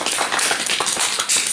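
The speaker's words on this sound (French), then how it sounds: "On peut l'applaudir quand même" An audience at a Rassemblement national campaign list presentation in Saint-Nazaire claps together in a dense, steady patter of many hands, fairly close and loud, lasting the full short stretch.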